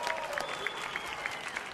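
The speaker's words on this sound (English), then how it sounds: "let's get a big Vegas round of applause for these two hard-swinging scrappers" A Las Vegas boxing crowd claps after a ten-round fight, a dense patter of applause heard at a moderate distance, steady and fairly faint throughout the short stretch.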